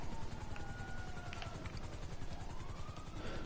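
A steady helicopter rotor drone with a rapid low chop runs throughout, fairly quiet and constant, with faint electronic tones above it.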